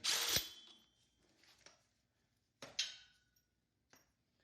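Power tool with a 5/8 socket zipping off the pulley bolt on a TroyBilt Horse riding lawn tractor, heard as short sharp bursts of whirring and rattling separated by quiet gaps, close and fairly faint.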